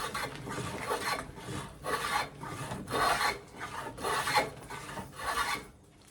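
Excess timber is worked off a cigar box guitar part clamped in a timber-and-rubber-lined vise, giving steady rhythmic rasping strokes, close and moderately loud, with no talking.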